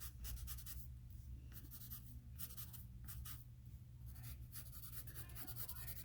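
Graphite pencil lines smudged and smeared across drawing paper, a soft, close papery rubbing in repeated strokes with short pauses, faint and steady.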